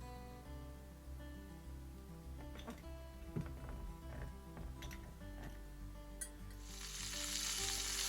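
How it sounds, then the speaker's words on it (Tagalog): Marinated pork sizzles steadily as it sears in a hot pan for Italian-style adobo, with scattered crackles and pops and a brighter hiss swelling near the end. "We sear the meat."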